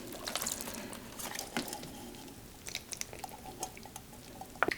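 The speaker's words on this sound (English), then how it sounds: "just strain it through" Juices from shoepeg corn strained through a strainer: a faint, quiet trickle and drip of liquid with scattered small clicks and splashes, no voices.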